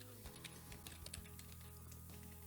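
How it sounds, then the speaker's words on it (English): Typing on a computer keyboard while saving a drawing template in garden design software, a quiet, steady patter of key clicks over a soft background hum. "If I can type today."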